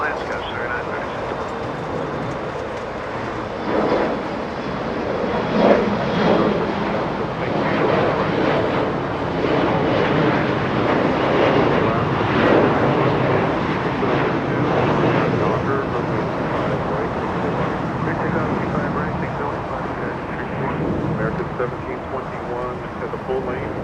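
A Boeing 737 lands at Los Angeles International Airport on runway 25 left, its engine roar building to a loud sustained rumble with wind noise, while a radio voice talks over it.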